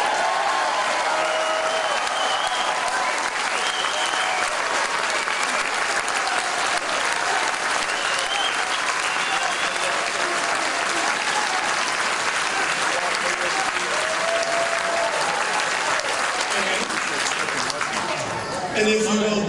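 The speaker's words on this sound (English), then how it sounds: "he got that crowd whooping and hollering and laughing" Large audience at a political speech applauding and whooping in a continuous loud roar of clapping and cheers that holds steady before cutting off.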